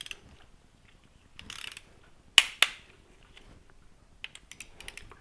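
A torque wrench ratcheting while a 2004 Yamaha R1 transmission is rebuilt, with a short burst of clicking, then two sharp loud snaps and lighter clicks after them, close up with no speech.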